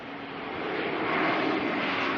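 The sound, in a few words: jet aircraft at Auckland Airport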